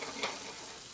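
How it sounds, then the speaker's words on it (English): Vegetables sauté in a hot pan in a home kitchen, giving a steady close sizzle with a brief stirring scrape near the start, heard alone without talk. "We're just going to saute those."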